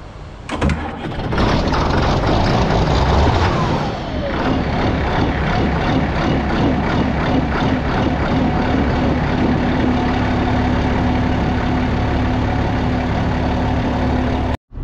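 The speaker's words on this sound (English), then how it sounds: "I guess I need to get my grain cart fired up so that way we got a hauling device to haul corn in" A tractor that pulls a grain cart at corn harvest cranks over and fires up, then settles into a loud, steady, close diesel idle that runs on for over ten seconds.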